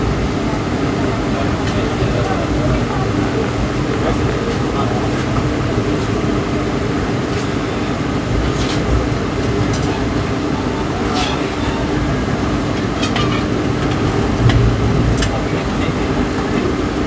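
Aboard the Siddhaganga Intercity Express AC chair car from Bangalore toward Tumkur as the train departs: a steady low rumble with faint rhythmic clicks of wheels over rail joints, heard from inside the coach.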